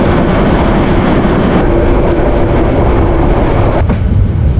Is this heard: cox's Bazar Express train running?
yes